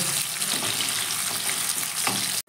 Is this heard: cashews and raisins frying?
yes